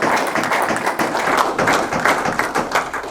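Audience at a scouting commissioner conference applauding in a room, a dense, steady wash of many hands clapping at close-to-moderate distance throughout, with no talk over it.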